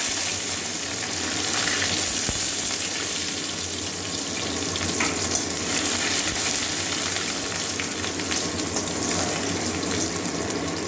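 Chopped onion frying in a pan with a dried red chilli, a steady loud hiss and crackle of oil running continuously and close throughout, with no talk.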